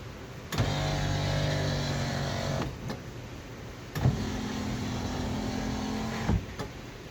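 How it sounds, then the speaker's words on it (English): An electric power window on a 1955 Ford Thunderbird runs twice, each pass a steady whirring motor lasting about two seconds and ending in a thunk as the glass stops, heard close in a quiet setting. "let's turn the ignition switch on and try the other window over there."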